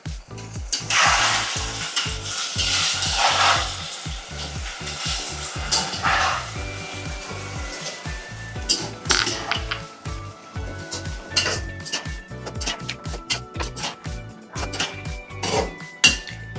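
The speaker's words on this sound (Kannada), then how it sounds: "ಈರುಳ್ಳಿ ಮತ್ತು ಟೊಮೆಟೊ ಚೆನ್ನಾಗಿ ಮಿಕ್ಸ್ ಆಗೋವರೆಗೂ ತಿರುಗಿಸ್ಕೋಬೇಕು ನೀವು" Crushed tomato and onion fry in a pan for vatha kulambu while a utensil stirs and scrapes, close sizzling broken by repeated metallic clinks and taps against the pan.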